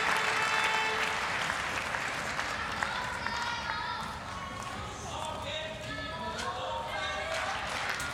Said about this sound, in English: It's nice that the crowd shows their support for TIMO